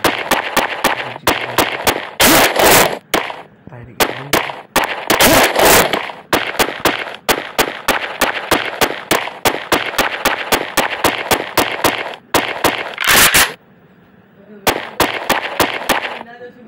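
Rapid bursts of shotgun fire in a video game, dozens of sharp loud blasts in quick succession with a few denser clusters and brief pauses, while someone talks over the action.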